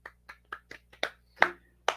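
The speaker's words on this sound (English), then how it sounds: "We got to give her a round of applause." Podcast hosts clap for a colleague, several sharp, separate hand claps spaced unevenly and growing louder toward the end, close and dry in a quiet room with no talk.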